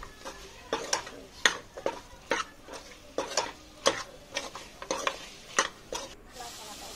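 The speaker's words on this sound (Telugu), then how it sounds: "ఒకసారి బాగా కలిపేసుకుందాం, అంతా బాగా కలిసే వరకు." A spoon stirs mutton and chana dal with ginger garlic paste in a pot, giving rhythmic scraping knocks about once a second over a soft, quiet sizzle, close by with no talking.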